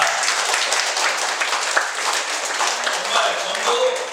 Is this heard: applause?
yes